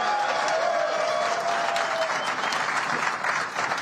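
A crowd applauding at an IAM union airline townhall, dense continuous clapping at full volume throughout, easing slightly at the end.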